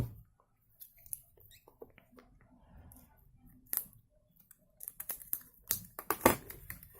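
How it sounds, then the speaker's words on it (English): Plastic wrap being peeled and torn off Amazfit Stratos 2 smartwatch packaging, close faint crinkles and sharp crackling rustles in irregular bursts that grow busier and louder toward the end, with no talk. "Let's remove the plastic first."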